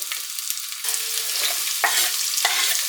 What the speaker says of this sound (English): saute the onions, add in the garlic and fry till fragrant